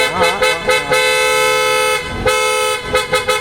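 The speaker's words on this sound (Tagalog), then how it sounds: "sobrang lakas ng ating auto style horn po mga kabossing" A loud, blaring aftermarket PIAA car horn on a Mitsubishi Montero, with a bright, multi-tone sound, sounded in short bursts and one long sustained blast, close by.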